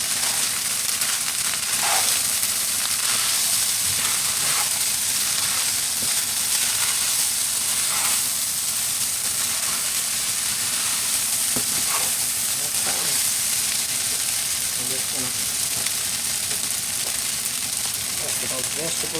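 Rice and vegetables sizzle steadily in a hot pan for a vegan butter chicken, a loud continuous frying hiss with occasional stirring scrapes, and a person talks over it throughout.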